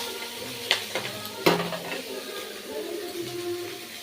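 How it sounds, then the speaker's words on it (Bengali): Prawns frying in a pan with a soft, steady sizzle and a few clinks of a utensil against the pan, close and fairly quiet throughout. "ভালো করে চিংড়ি মাছটা ভাজতে হবে"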